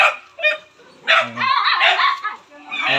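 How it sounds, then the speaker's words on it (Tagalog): Many dogs barking and yipping in a yard, with overlapping barks in bursts and a whimper, close by, with a person talking between them. "Ang daming aso."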